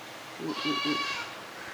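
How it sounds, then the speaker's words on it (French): Small goats bleating, a short wavering bleat rising and falling in a few pulses, close and clear, alone with no talk. "On a des petites chèvres"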